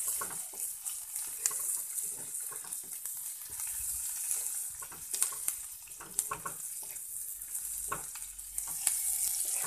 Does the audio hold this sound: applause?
no